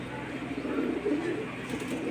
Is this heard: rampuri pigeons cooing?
yes